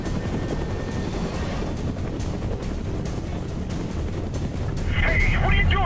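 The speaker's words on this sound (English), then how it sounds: "Just fly the fucking helicopter!" A military gunship helicopter in the video game Prototype 2 drones with steady rotor noise throughout, growing louder and harsher near the end, with faint game effects in the mix.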